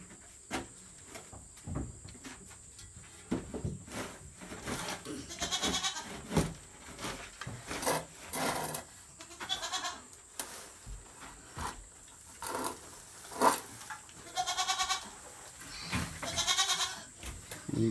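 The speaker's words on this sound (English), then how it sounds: "you guys can hear the goats in the back behind me" Goats bleat repeatedly from a short distance behind a person collecting European nightcrawler worms into a cooler, with several calls overlapping in irregular bursts amid occasional handling clatter.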